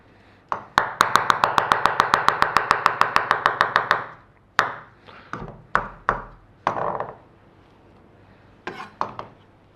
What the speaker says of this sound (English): Right, let's chop these mushrooms up.